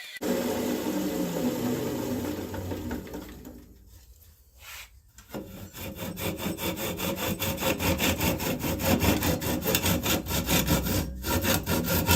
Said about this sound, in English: We've got a little bit more to flatten out here, and then we'll sand it